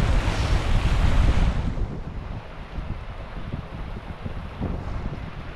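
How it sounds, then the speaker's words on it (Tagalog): A river current rushes loudly at first, then eases into a steadier, softer flow of water with some wind buffeting the microphone outdoors. "Humihina na yung agos. Hindi na ganong malakas sa tenga."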